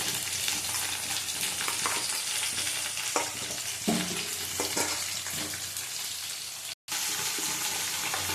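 Pumpkin and ridge gourd sizzling and frying in a pan, a steady close crackle with occasional stirring scrapes and a brief cut near the end, no voices.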